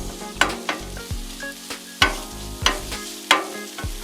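Meat for Philly cheesesteak stuffed peppers sizzles on a Blackstone griddle, a constant crackle broken by sharp, repeated scrapes and taps of a metal spatula turning and chopping it, loud and close.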